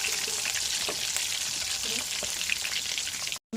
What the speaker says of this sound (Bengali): ডিমগুলো বেজে নিলাম